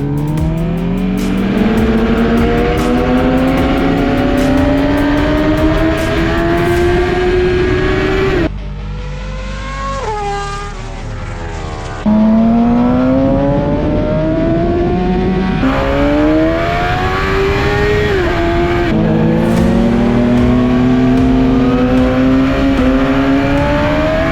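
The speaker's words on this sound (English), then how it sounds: "the motorcycles come to life, racing around the track" Racing motorcycles whine loudly and continuously around a track, pitch climbing through gear changes again and again, with a brief lull midway before the roaring resumes.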